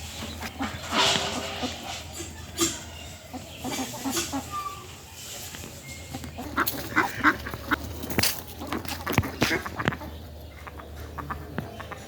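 Ducks coming up from a pond quack and cluck in a scattered, busy chorus at moderate distance, with faint background noise and occasional talk.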